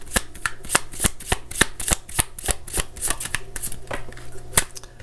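Tarot cards are shuffled and drawn in a quick run of crisp, close flicks and slaps, with faint talk now and then.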